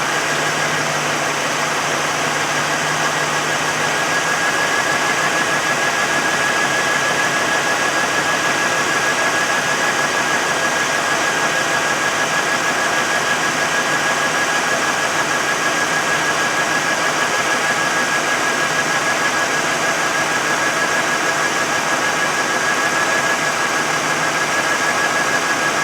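A 1988 Lincoln Town Car engine idles steadily just after its first start, smoke pouring from the tailpipe, with a constant droning rumble and a thin, sustained high whine over it, no talking.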